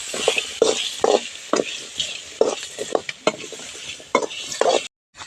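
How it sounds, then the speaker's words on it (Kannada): A spoon stirs black peppercorns in a cooking pan, giving repeated scraping and rattling strokes with a faint sizzle underneath, close and clear, ending in a brief silence. "ಕಾಳು ಮೆಣಸು ಹಾಕ್ತಾ ಇದ್ದೀನಿ"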